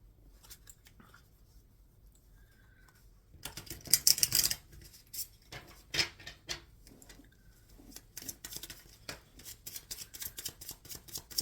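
Tarot cards shuffled by hand during a Capricorn reading, heard as quiet riffling and soft slaps that build into a denser run of crisp card flicks and taps partway through, with no talking.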